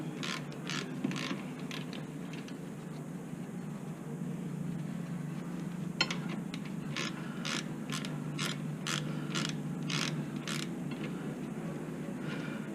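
A Stanley ratchet wrench turns during a rear brake pad change on a Suzuki SX4, giving a steady run of close, crisp pawl clicks in quick repeated bursts over about thirteen seconds with no talking.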